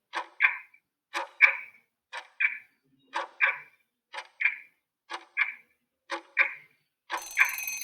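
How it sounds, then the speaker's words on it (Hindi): A quiz timer clock ticks in an even, regular rhythm, each tick doubled and crisp, repeating about once per second before a brief buzzing ring at the end. "सो जी आपका जो टाइमर है स्टार्ट होता है।"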